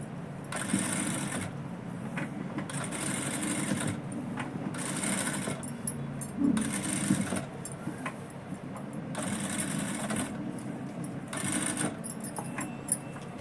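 A sewing machine stitches a lining blouse in bursts of rapid mechanical whirring that start and stop several times, close and steady.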